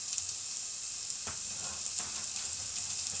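Red onion and celery for a chicken and chorizo paella sizzle in a frying pan with a steady, close hiss, broken by a couple of soft clicks from stirring.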